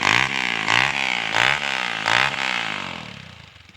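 A small Wave 125 motorcycle engine revs in repeated bursts, rising and falling several times, then winds down and fades toward the end.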